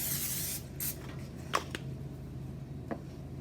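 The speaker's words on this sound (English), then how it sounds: "we're going to use cooking spray to grease the pan" Cooking spray hisses from an aerosol can onto a jelly roll pan in a home kitchen, several short close bursts separated by pauses, with no talking.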